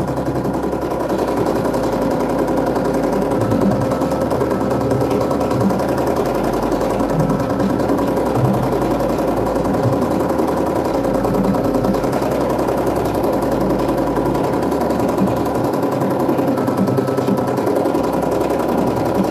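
An embroidery machine stitches a quilting design, its needle running in a fast, steady, unbroken drone that stays loud and close throughout.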